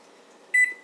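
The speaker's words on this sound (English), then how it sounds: "The timer just went off." A kitchen timer sounds a single short electronic beep after a quiet stretch of low background hum, while rutabagas and other vegetables steam alongside a top sirloin dinner.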